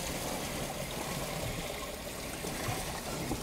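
Water poured from a bucket into the tank of a Chauvet Nimbus fog machine makes a steady, close, continuous splashing trickle with no talking.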